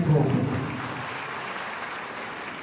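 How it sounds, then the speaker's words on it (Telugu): An audience at a government housing scheme event claps loudly and steadily, a dense, sustained round of applause that carries on throughout. "గట్టిగా చప్పట్లు కొట్టాలని చెప్పి"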